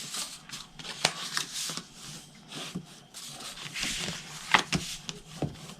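Paper being folded and burnished for a hot cocoa holder box, heard as soft close rubbing and scraping with a few light taps and creases, quiet and continuous.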